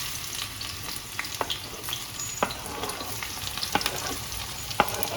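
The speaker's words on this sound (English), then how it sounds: "Once the oil is heated, I'll add my onions." Onions frying in heated extra virgin olive oil, a steady close sizzle broken by sharp clicks and scrapes of a utensil stirring in the pan.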